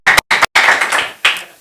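A few sharp hand claps ring out close and loud, with short gaps between them and a brief reverberant tail after each, during a sermon by a preacher.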